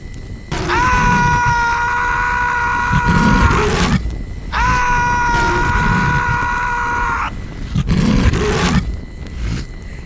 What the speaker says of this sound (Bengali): হঠাৎ আকাশ বাতাস কাঁপিয়ে তীব্র আর্তনাদ ভেসে এলো।